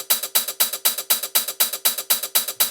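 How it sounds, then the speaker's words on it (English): A dry double-time hi-hat sample with effects bypassed, crisp bright ticks in a fast, even, steady rhythm, close and alone. "I'm doubling up on that sound with this kind of double time hi-hat"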